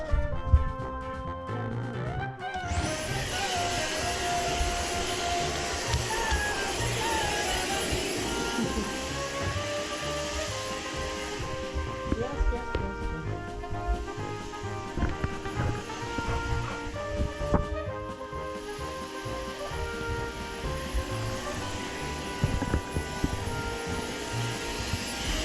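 A household vacuum cleaner switches on after a couple of seconds and runs steadily with a loud whine, while dogs move and play around it; bumps and brief voices sit under the constant motor drone.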